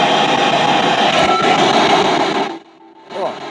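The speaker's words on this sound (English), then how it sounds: "Let's do it on FM just to give you an idea. Can you remember what the sweep sounded like on the other one?" PSB-7 radio scanner sweeping across FM, a loud continuous hiss of static and garbled noise that cuts out briefly near the end before the static returns.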